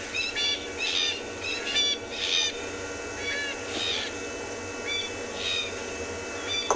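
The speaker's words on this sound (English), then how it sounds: "Cocky francolins are calling over in the distance." Crested francolins call repeatedly in the distance during a sunrise safari at Tswalu, harsh rhythmic bursts carrying over a constant low background hum.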